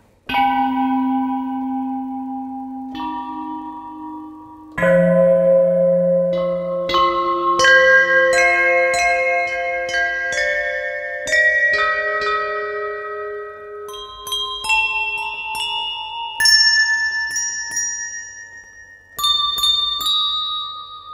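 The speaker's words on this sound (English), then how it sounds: "Now this is Tibetan bell ensemble 1." A Tibetan bell ensemble rings out alone: a series of struck bells with bright, shimmering overtones, each strike blooming and decaying slowly, some deep and warm, others high and glassy, layering into overlapping resonant tones.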